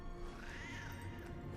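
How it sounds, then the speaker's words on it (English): Cats in the Guild Wars 2 video game let out a single drawn-out meow that rises and falls over a steady, faint background of game ambience, with no talk. "Kawaii cats."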